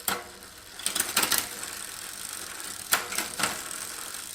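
Quiet mechanical clicking and ratcheting bursts from a Shimano Ultegra 11-speed road bike front derailleur shifting up close, a cluster of quick clicks then another pair a moment later.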